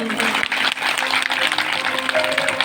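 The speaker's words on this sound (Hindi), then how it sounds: "जोरदार तालियों से, ऐसे नहीं, जोरदार।" Audience applause at a Hindu religious discourse gathering, a continuous dense clapping from a crowd that stays loud for the whole stretch.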